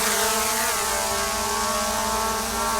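Skydio 2 drone propellers spin up at takeoff, giving a loud, steady high-pitched whine and buzz close by. The sound holds level from start to finish, with no voices.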